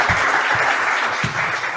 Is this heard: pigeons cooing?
no